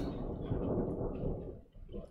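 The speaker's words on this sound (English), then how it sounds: "I think you can really hear the thunder, right?" Low, rolling thunder rumbles through a rainstorm, a soft, distant continuous roar with a gentle hiss of rain, fading slightly toward the end.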